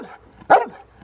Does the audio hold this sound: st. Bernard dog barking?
yes